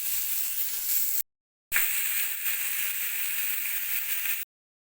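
Chicken breast searing in a dry pan, a steady bright sizzle and hiss close up, broken by a brief silent gap, then continuing evenly.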